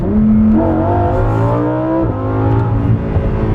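Loud, close V10 engine of a 2018 Lamborghini Huracan Performante Spyder rising in pitch as it accelerates hard, with a brief drop around a gear change before climbing again.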